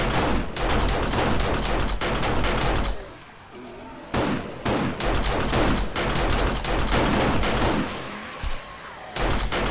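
Automatic turrets in the 7 Days to Die game blasting away at a horde of zombies, loud rapid bursts of gunfire in long volleys, briefly pausing midway before resuming, with talking underneath.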